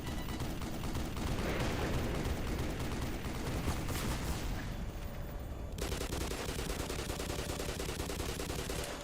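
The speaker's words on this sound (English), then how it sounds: "Can I just shoot this dude here?" Dense gunfire from the Black Mesa shooter game, rapid bursts of shots running continuously and loudly throughout, with a brief drop in intensity midway before the firing resumes.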